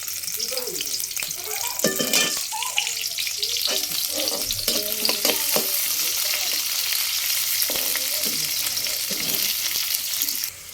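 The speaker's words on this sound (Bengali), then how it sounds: "মিষ্টি কুমড়ো ভাজি করবো, তেল দিয়ে দিলাম।" Sweet pumpkin and green chillies fry in oil with a steady, close sizzle, broken by stirring clatter in the pan.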